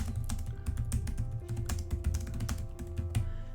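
Rapid typing on a computer keyboard while entering a line item for a new boiler, steady close clicks with no speech.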